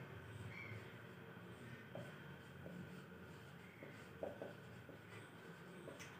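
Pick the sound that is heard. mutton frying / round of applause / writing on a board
writing on a board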